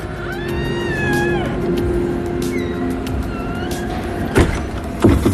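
A stiff, noisy door is opened and closed, giving drawn-out creaking squeals over steady background hum, then two sharper knocks near the end as it shuts.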